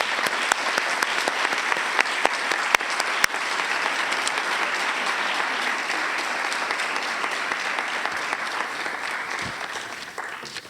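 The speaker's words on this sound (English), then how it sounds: "So let's give them a round of applause." An audience claps steadily for about ten seconds, a few sharp claps standing out, before the applause begins to fade.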